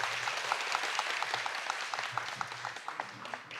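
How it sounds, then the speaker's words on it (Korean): Audience applause at a formal government research meeting as a guest is introduced, a dense steady patter of many people clapping, clear and sustained throughout before tapering slightly at the end. "큰 박수로 맞이해 주시기 바랍니다."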